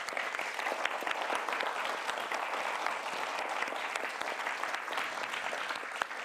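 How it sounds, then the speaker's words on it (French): Steady, even applause from an audience at a French poetry and music performance, a continuous wash of many hands clapping with no talk over it. "Je vous remercie d'applaudir Valentin Mussou"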